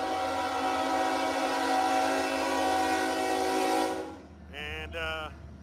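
A loud, steady rumble of a passing freight train led by a heritage locomotive fills the first four seconds, then cuts off, followed by two short blasts of a horn, at Fort Madison.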